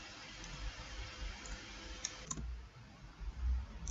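A few sharp mouse clicks while choosing and saving files in a document upload form, close and quiet over a faint steady background hiss.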